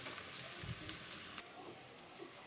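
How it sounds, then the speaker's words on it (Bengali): Chopped onion fries in hot oil for biryani, a faint, even hiss of sizzling with a soft low thump near the start, quiet and without speech. "পেঁয়াজটা হালকা করে ভেজে নেব"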